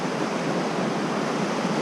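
A creek rushes steadily beside a hiking trail in the North Cascades, a dense, continuous roar of flowing water heard close and loud with no pauses or voices.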